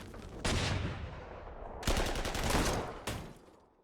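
Gunfire in the Panzer Corps 2 strategy game strikes an anti-tank gun: three loud, broad bursts of rattling fusillade that start abruptly and decay, with no talk.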